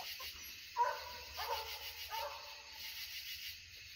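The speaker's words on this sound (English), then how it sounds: "Guys, sounds like Rose is coming treed." A coonhound bays at a treed animal during a night coon hunt, several faint, distant barks and yelps spaced across a quiet background.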